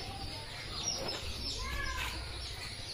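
Local chicken and duck chicks at a poultry hatchery in Assam, faint scattered peeps and chirps rising over a steady background hum.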